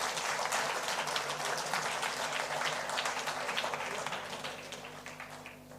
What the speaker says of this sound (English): So a big round of applause for our broadband network team